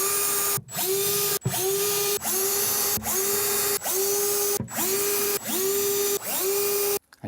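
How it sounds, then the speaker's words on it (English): Power drill driving screws to fix an Innostor Plus blind corner unit into a kitchen cabinet, repeated short whirring bursts that ramp up and stop, about eight in a row, close by. "You can then drill this into position."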